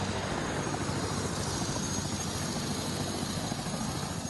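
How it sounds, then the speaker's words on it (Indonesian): Helicopter flying over an earthquake-hit area of South Sulawesi during an aerial inspection, its rotor and engine roar steady, loud and close throughout with no voices. "Peninjauan dilakukan melalui udara menggunakan helikopter."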